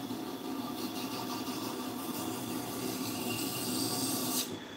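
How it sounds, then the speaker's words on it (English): A kitchen knife ground against a rotating stone on a Tormek sharpener with the KJ-45 knife jig, removing the burr: a steady, even rasping hiss over a low motor hum, continuous and close. "switch around to the other side and throw the burr back and forth a couple times"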